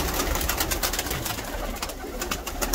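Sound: pigeons

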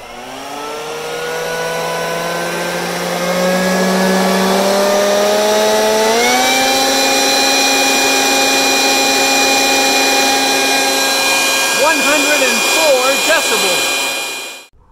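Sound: leaf blower running

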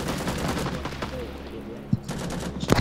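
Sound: gunfire in Rising Storm 2 Vietnam video game

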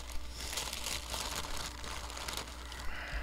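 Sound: plastic bag crinkling as a package is opened

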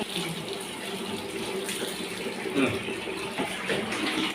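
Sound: water running for a child's bath

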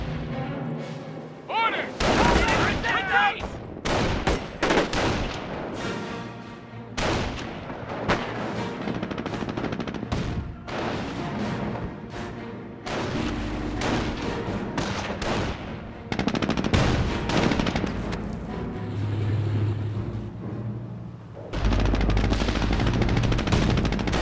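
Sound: gunfire in the video game Company of Heroes Online

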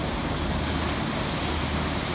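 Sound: ocean waves breaking at a Kamakura surf beach

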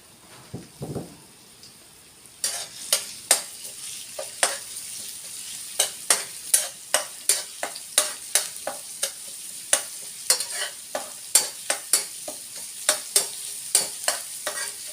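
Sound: garlic frying in oil

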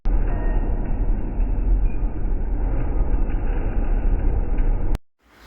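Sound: train ride interior

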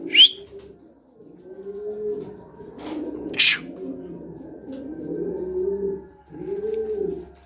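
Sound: coop pigeons cooing

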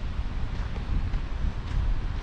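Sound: strong wind blowing in Gabral valley, Swat

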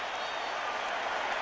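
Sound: loud stadium crowd at 49ers game

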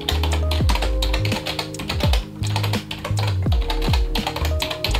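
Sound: typing on actto retro keyboard

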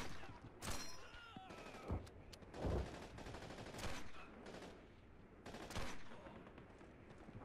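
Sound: German machine gun firing in Call of Duty 2 video game

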